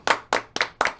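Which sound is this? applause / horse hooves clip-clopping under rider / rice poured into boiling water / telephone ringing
applause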